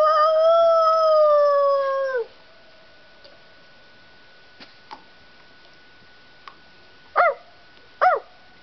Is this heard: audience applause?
no